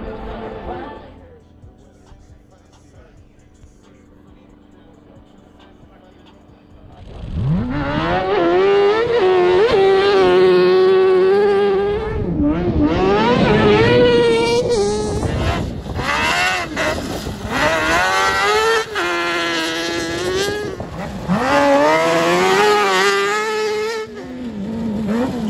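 Kartcross rally cars at the Kambos Rally Sprint 2021 in Cyprus start up after a quiet stretch, their engines revving and rising in loud, repeated sweeps up close, with wind buffeting and some talk mixed in.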